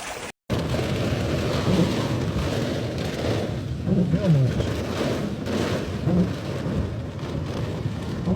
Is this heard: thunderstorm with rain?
yes